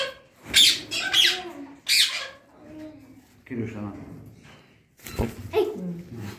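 Parrots and lovebirds at a small zoo let out several sharp squawks in short bursts, close by, with people talking in between and over the calls.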